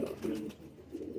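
A female Patti pigeon gives soft, low coos in two short bursts, close and alone.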